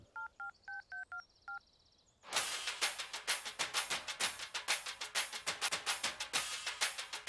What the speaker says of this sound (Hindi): मेरी गर्लफ्रेंड का फोन रिंग हो रहा है